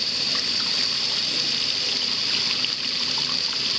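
Hot water gushing steadily from a tap, a continuous close hiss with no pauses.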